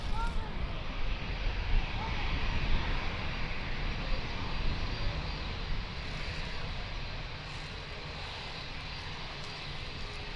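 Boeing 777 jet airliner at Lisbon Airport, a steady broadband engine roar at a moderate distance, sustained and slowly fading, with no talk over it.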